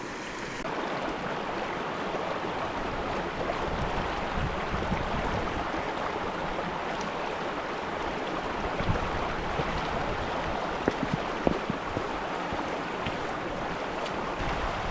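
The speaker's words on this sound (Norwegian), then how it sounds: "Først må vi bare krysse den her lille elva." Someone crosses a small river outdoors in spring snowmelt country, with steady rushing flowing water and wind noise filling the whole stretch and a few sharp splashes or knocks near the end, no talking.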